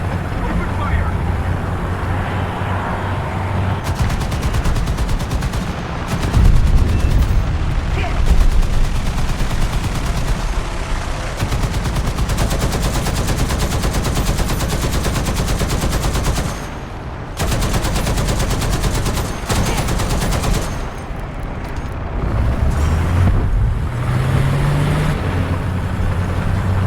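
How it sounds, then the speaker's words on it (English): An artillery strike and gunfire in the War Thunder video game build a loud, dense barrage of overlapping shots and booms over a steady engine-like rumble, continuing for almost half a minute with only brief dips. "Artillery strike. Coordinates. Foxtrot. 5. Destroy. Foxtrot. 5. Acknowledged. Open fire."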